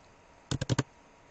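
Four quick keystrokes on a computer keyboard tap out in a short, even burst, close and fairly soft against a quiet background, with no talking.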